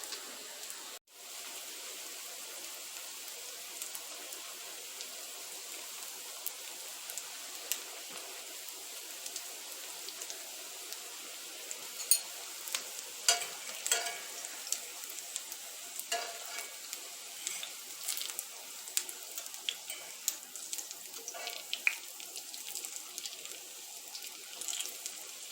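Chicken cutlets frying in a pan while being flipped back and forth, a faint, steady crackling sizzle with scattered pops and spits that grow busier toward the end, no voices.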